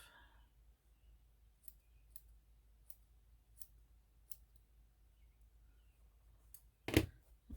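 Scissors trim a small needle-felted wool raccoon with quiet, evenly spaced snips at close range, then one louder, sharper cut near the end against a faint low hum.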